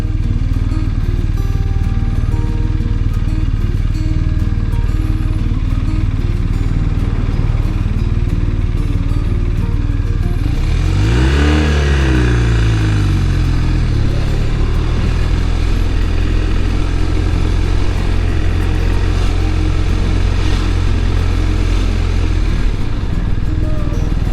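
A BMW boxer-engine motorcycle rumbles steadily, then revs up sharply and falls back to a throaty idle, loud and close.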